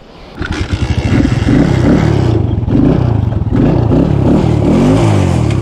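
A motorcycle engine cranks and catches, then settles into a loud, close, throbbing idle with a few blips of revving.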